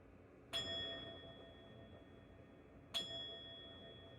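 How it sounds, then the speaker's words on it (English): A singing bowl is struck twice during a seated yoga session, each strike a clear bright chime that rings on and slowly fades, quiet and alone. "we'll get our final 3 singing bowl chimes."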